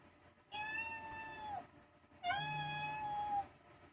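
A recorded cat meows twice from a smart speaker, each meow long and drawn out with a falling end, clear and close, separated by a short quiet gap.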